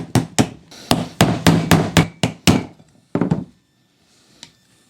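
A hammer strikes a chisel or heavy-duty screwdriver to cut off a wear sleeve on the harmonic balancer of a 7.3 Powerstroke engine. About a dozen sharp, loud metallic blows come in quick bursts, then fall silent.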